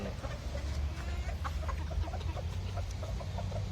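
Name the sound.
young breeding rooster clucking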